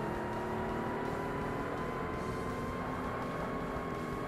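A car engine racing in Forza Motorsport, a steady droning whir of engine and tire noise that holds even throughout, fairly quiet and alone with no talk.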